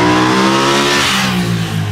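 Honda CB750 Hornet parallel-twin motorcycle engine revving high and loud, its steady harmonic drone climbing and holding through the whole stretch with no talk over it.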